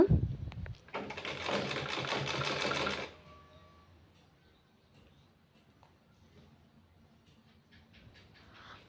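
Sewing machine running a straight line of stitching along a hook strip, a loud steady whirring burst for about two seconds that stops abruptly, leaving quiet room noise afterward.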